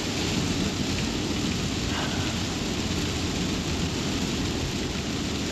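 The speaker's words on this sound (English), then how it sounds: "Trying to be optimistic about the rain." Rain pours down at a farm during a drought, with thunder rumbling low beneath a loud, constant wash of rainfall that never pauses.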